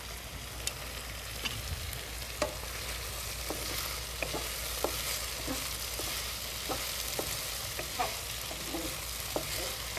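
A potato and eggplant curry is stirred in a sizzling pan, with a steady soft fry beneath repeated sharp scrapes and taps of the spoon against the pan, fairly close and without speech.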